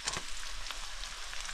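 Onions frying in oil in a pan for a tuna fish curry give a soft, steady sizzling hiss, ending with a sudden louder splattering burst as tomato is added.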